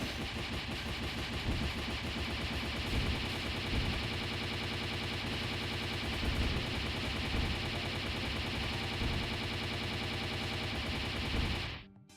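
Machine gun fire from the video game Disgaea 2 keeps up a dense, continuous rattle at steady loudness, blended with other game sound, then stops abruptly at the end.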